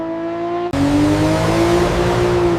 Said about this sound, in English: Professional test drivers take every car onto Ferrari's private test track.